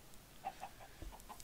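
Chickens cluck in short, faint, scattered calls in the video game Minecraft, a few soft clucks spaced across a quiet moment with no talking.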